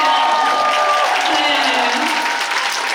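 Applause and cheering from a concert audience fill a large venue, a loud, dense wash of clapping that holds steady and then eases slightly, with voices mixed into the crowd.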